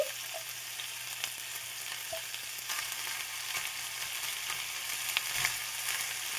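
Chunks of canned corned beef fry in a shallow layer of oil in a pan, giving a quiet, steady sizzle with small pops and crackles and no talking.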